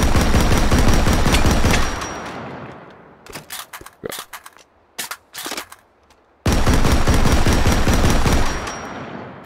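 Pancore Jackhammer revolver firing in Hot Dogs, Horseshoes and Hand Grenades: a dense, loud roar of rapid shots, then a gap of sharp, separate cracks, then another sustained burst of heavy fire.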